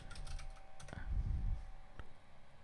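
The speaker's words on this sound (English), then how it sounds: "Let me just type in animation." Computer keyboard typing up close, a short run of quick clicky keystrokes with a denser burst in the middle and a single isolated key tap near the end, no voices.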